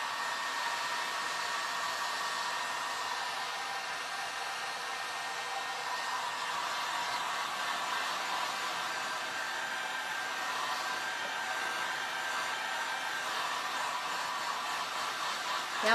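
A hair dryer roars continuously at close range, a steady loud whooshing hum with no pauses.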